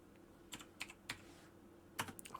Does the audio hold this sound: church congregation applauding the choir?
no